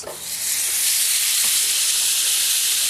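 Marinated fillets hit a hot griddle pan and sizzle loudly, a steady bright hiss that swells in the first second and then holds evenly, close and with no talking.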